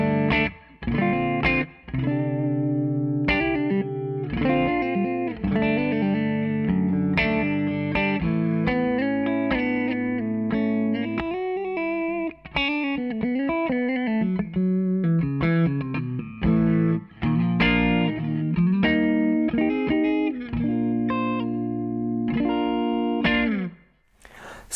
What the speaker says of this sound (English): This is a kind of a spring reverb tone print.